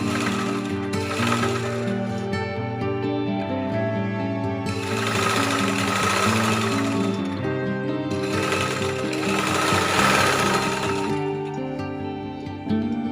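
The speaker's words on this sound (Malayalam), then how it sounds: "ഇനി നമുക്ക് ഈ തുണിക്കഷ്ണങ്ങൾ ഒന്നിടവിട്ട് ഈ സ്റ്റിഫിലേക്ക് തയ്ച്ചു പിടിപ്പിക്കാം" A sewing machine stitches fabric pieces onto a stiffener, running in loud rapid bursts with brief pauses between runs, its mechanical whir and clatter heard alone.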